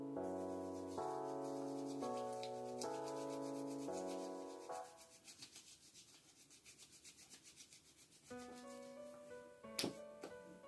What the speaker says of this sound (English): Take an appropriate amount of the hair wax and then spread it evenly to the palm of your hand.